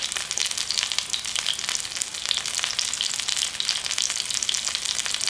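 Seafood pancake (haemul pajeon) batter with chopped chili fries in a pan, giving a steady close crackling sizzle throughout with no pauses.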